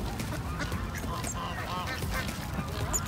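Several geese honk continuously over one another, a busy cluster of calls nearby with some ducks mixed in.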